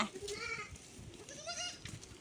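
Goats bleat several times in wavering, overlapping calls, faint and somewhat distant over a soft outdoor background.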